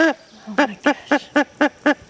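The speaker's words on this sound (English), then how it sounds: "It really does sound like a rubber chicken." A dead backyard-butchered chicken has its lungs squeezed so air is pushed out, producing about seven evenly spaced, squeaky rubber-chicken honks, close and fairly loud.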